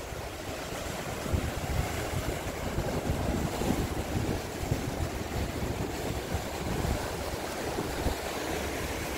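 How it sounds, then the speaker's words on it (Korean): Heavy surf pounds a rocky fishing spot by a coastal village, a continuous roaring wash of crashing waves with steady wind buffeting the microphone and no voices. "지금 파도가 너무 심하거든요."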